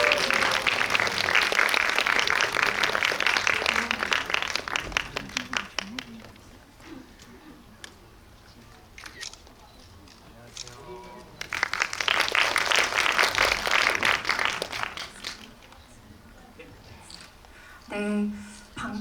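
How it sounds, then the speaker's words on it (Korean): A cinema audience at a film screening gives loud, sustained applause to welcome the director and actors onto the stage, fading into a quieter patch and then swelling again, with an announcer's voice speaking between the bursts. "큰 박수로 환영해 주시기 바랍니다."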